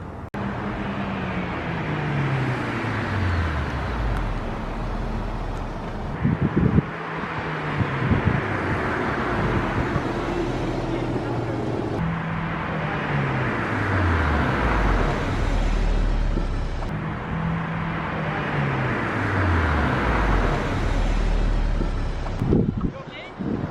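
A Honda S2000 runs through repeated hard acceleration runs, the engine note rising through the gears before each hard stop to bed in new brakes, four cycles in a row with wind noise over the microphone.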